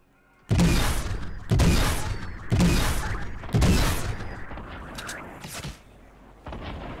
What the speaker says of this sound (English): I really use my snowball launcher.